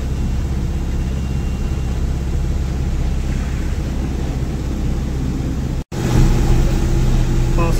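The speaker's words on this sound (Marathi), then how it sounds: "घाटात जास्त चालत नाही गाडी, एकदम गिअर कमी करायला लागत आहे गाडी." A loaded truck's engine labours steadily in low gear while climbing a ghat road during the monsoon, a constant heavy rumble with road and wind noise that briefly cuts out before resuming.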